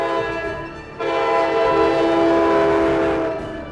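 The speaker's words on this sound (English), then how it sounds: "Today, electric trains run continually up and down the Northeast Corridor." An electric train on the Northeast Corridor sounds a loud, sustained horn that starts abruptly after a second of rolling rumble, then fades slightly as it passes.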